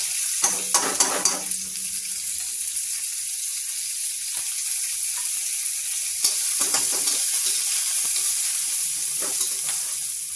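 Green peas fry with whole coriander seeds in a pan, a steady bright sizzle with a burst of clattering stirs early and a few more scrapes later, fairly loud and close, with no speech.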